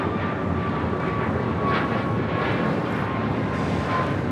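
A Southwest Airlines Boeing 737 MAX 8 jet rolls out on departure from LAX bound for Phoenix, its engines a steady, loud broadband roar with a faint tonal whine held throughout.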